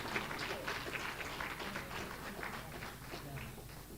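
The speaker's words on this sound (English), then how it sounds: "Please give a big hand of applause." Steady applause from an audience at a World AIDS Day commemoration, a dense wash of many hands clapping at even loudness throughout, with some crowd noise mixed in.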